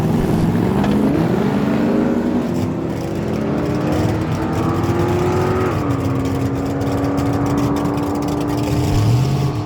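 A 1979 Chevy Malibu with a big block engine and a 1965 AMC running a 5.3 liter LS small block launch in a no prep drag race. Loud, sustained engine roar climbs in pitch as both cars pull hard down the strip.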